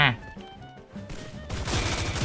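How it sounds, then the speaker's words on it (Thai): Gunfire in the SIGMAX mobile battle royale game: a rapid fusillade of shots building into a dense continuous burst, loud and close, with voices talking over it. "ยิงจนหมดแม็กอะบอกเลยนะ"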